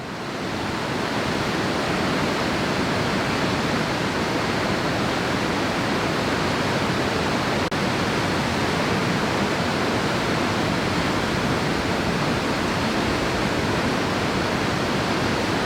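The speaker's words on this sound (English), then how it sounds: "Manitoba's second tallest waterfall." Steady, loud roar of a tall waterfall in Manitoba, Pisew or Kwasitchewan Falls, a dense unbroken rush of falling water lasting throughout with no voices.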